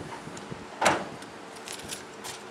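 Tailgate of a Chevy Silverado Z71 crew cab pickup being worked, a single clunking mechanical thud with a short rattle, close by, followed by faint light clicks in a quiet setting.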